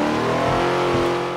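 Race car engine in the Forza Motorsport 7 racing game revving loudly and steadily, a close, continuous engine drone with a rising pitch that fills the short stretch without any talk.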